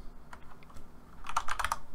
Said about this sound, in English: you can get to this terminal by pressing the Windows key on your keyboard,